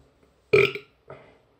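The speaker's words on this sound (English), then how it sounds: "If I burp, sign of a good beer." Two burps after a drink of Krombacher wheat beer, a loud first belch followed half a second later by a shorter, softer one, close up in a quiet room.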